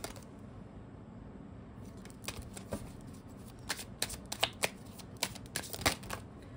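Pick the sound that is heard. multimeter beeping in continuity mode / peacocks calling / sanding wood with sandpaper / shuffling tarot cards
shuffling tarot cards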